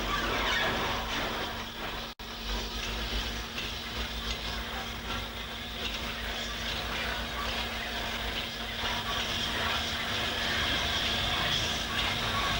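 The County Donegal Railway locomotive Blanche brings the daily goods train from Letterkenny to Strabane into Raphoe station in 1958, with a steady, continuous rumble and hiss of the moving train and no talk.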